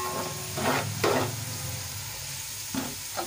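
Onions frying in a pan until brown, a steady sizzle with a few louder bursts as they are stirred, close and alone.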